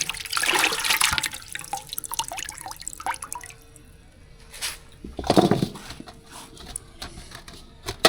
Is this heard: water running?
yes